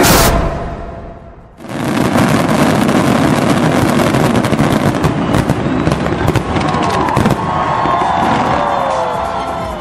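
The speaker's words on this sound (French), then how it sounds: "Il s'agit de l'utilisation des feux d'artifice en plein jour." Loud daytime fireworks burst and crackle continuously after a brief quiet moment, dense popping and booming layered with whistling streaks toward the end.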